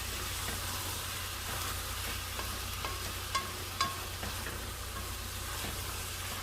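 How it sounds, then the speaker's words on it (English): Chili in a pot being stirred after salt goes in, with a soft steady sizzle and a few faint spoon scrapes and clicks, quiet and close. "Let's give that a stir in."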